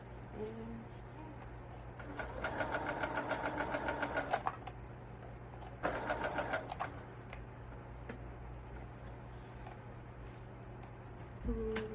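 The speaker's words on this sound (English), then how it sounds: "So, I'm going to sew this up real quick." A sewing machine stitches a fur robe in two clear bursts, a longer run and then a shorter one, its rapid needle chatter close and loud over a steady low hum, with quiet pauses between.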